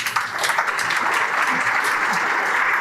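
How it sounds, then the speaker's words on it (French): An audience at a French mental-health association gathering gives steady, enthusiastic applause, a dense wash of hand clapping that holds at an even level throughout. "Je vous demande de les applaudir bien fort."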